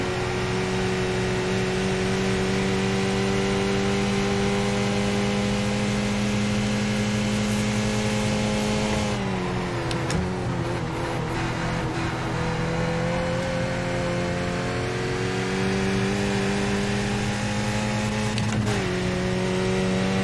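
Small 2-liter racing car engine in a racing video game at Mount Panorama, Bathurst, droning steadily at high revs, with a brief lift-off and gear change midway before pulling hard uphill again, continuous and loud.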